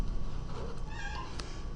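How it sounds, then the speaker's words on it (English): A cat meows once in a room during a maths lesson, a short, clear cry over steady background hiss. "Sorry about my cat."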